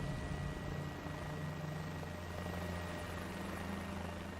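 A helicopter flies in Microsoft Flight Simulator over the Nürburgring, a quiet, steady rotor and engine drone with a low throbbing hum holding evenly throughout, with no voices.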